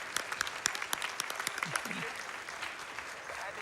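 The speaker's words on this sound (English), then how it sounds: "Can I get a round of applause for Steve Ditko and Stan Lee?" An audience claps in applause at a speedrun charity event during a Marvel's Spider-Man run, a dense burst of clapping that thins out over a few seconds, with a voice speaking over it.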